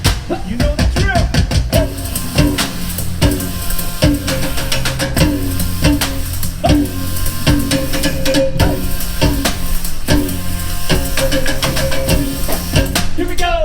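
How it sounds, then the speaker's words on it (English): Percussion group drumming live at Universal Orlando, a dense, loud, steady stream of drum hits and rhythmic accents filling the whole stretch without pause, with no talking over it. "it looks like we have the percussion group playing up here"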